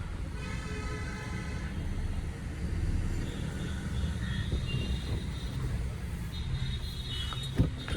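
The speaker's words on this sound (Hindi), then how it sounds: "मेरी गाड़ी आगे नहीं जा सकी, तो मेरे को यहीं से रिवर्स करके ले जानी पड़ेगी" A petrol car reverses and then drives off, its engine a steady low rumble with road noise throughout and a brief knock near the end.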